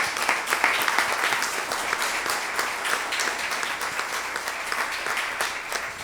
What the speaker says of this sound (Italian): facciamo un altro applauso ancora ad Angela